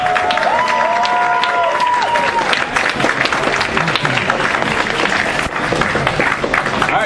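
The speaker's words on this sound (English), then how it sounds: "let's give everyone a round of applause for the" Audience at a comic convention giving a round of applause, dense clapping and crowd noise throughout, with a brief rising whistle-like tone near the start.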